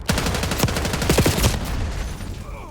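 A frag grenade goes off in the shooter game Black Ops 6 amid a loud burst of gunfire-like blasts and cracks, dense and close, fading into a quieter tail toward the end.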